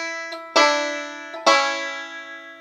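Banjo in an Old Joe Clark bluegrass lesson, left hand off the neck, pinching the open second and first strings: two bright ringing plucked notes, each struck crisply and left to sustain and decay, played alone.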